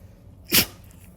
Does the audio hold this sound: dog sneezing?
yes